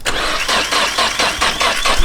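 A turbocharged Nissan S14 engine cranks and catches, with loud, choppy starter churning and uneven firing close by, no voices.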